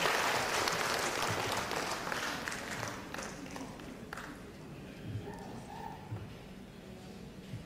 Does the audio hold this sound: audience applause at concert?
yes